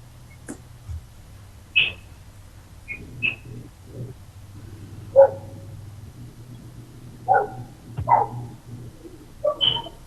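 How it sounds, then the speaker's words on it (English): A neighbour's dog barks in scattered single yaps and short bursts during a board meeting call, fairly distant, over a steady low hum, with no talk during the barking. "Is that your neighbor's dog, Frank?"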